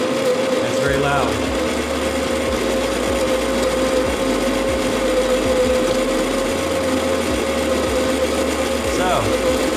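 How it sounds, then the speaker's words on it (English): An electric coffee grinder grinds coffee beans in a loud, steady, continuous whir with a constant motor tone for the full length, while a voice occasionally talks faintly underneath. "Now, I'm going to grind the coffee."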